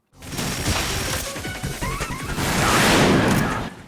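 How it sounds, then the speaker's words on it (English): Machine gun fire from the Harrier jet boss in Metal Gear Solid, a loud, dense stream of crashing impacts and bursts that swells and stays heavy toward the end. "In the first one, you hear a machine gun,"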